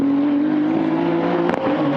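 A time attack race car accelerates hard out of a hairpin, its engine note rising in a loud, sustained roar with a brief gear-shift dip near the end.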